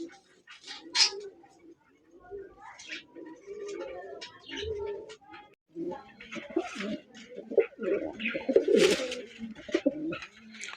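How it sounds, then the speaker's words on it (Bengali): Strawberry pigeons at a pigeon dealer's shop coo in low, rolling bursts close by, mixed with other bird calls and chatter and someone talking over them. "বন্ধুরা এখানে একজোড়া স্ট্রবেরি কবুতর আছে"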